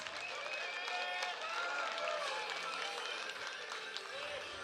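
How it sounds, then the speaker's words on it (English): An audience applauds for two teenage fighters at a TCB 44 combat sports event, a steady wash of clapping and crowd noise heard at a moderate distance, faint overall, with an announcer's voice running over it. "let's give a big round of applause to 17-year-old Dennis Karmazyn and 16-year-old Ben Thomas"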